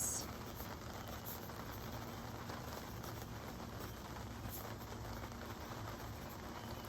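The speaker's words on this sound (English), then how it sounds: "Now you get rain noises too." Quiet, continuous rainfall patter from a sun shower, with occasional brighter drips, even and unbroken, heard alone at moderate distance.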